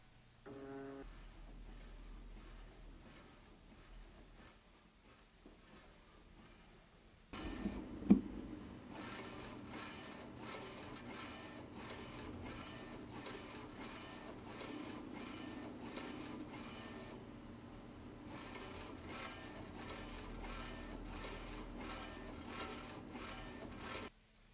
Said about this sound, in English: So we'll simply hit load again, the bed will return, and begin to print the second pass.